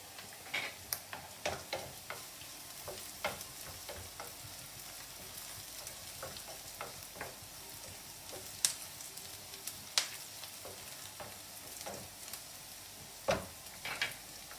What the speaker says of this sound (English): now the rice is bubbling well. So I put it on very low heat and let it simmer